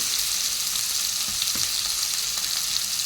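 Grated ginger and ground spices fry in a pan with a continuous close hiss, broken by a few faint scraping stirs and light ticks.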